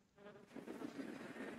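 A fly's buzz in the video game The Plan, a close, droning whine that swells in after a quiet start and holds steady, faintly wavering, with no talk.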